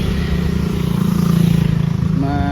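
A motorcycle engine putters close by on a road reserved for private vehicles, a steady throbbing idle that swells and then fades as it moves past.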